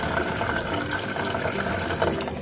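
Water splashes and gurgles steadily as it is poured into a container holding a cage for hatching brine shrimp eggs, a continuous close filling sound with no talk.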